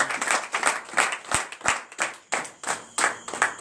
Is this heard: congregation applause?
yes